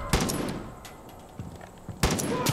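Gunfire from a gun in Far Cry 5: a quick volley of shots at the start, a few scattered single cracks in between, then another rapid burst at the end, moderately loud.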